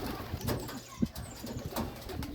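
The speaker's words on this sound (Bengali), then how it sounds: "দেখুন বোম্বাই কবুতরটা কি সুন্দরভাবে ডাকাডাকি করে।" Bombai and Rajshahi Giribaz pigeons coo softly in low, repeated murmurs, with faint rustling and background noise around them.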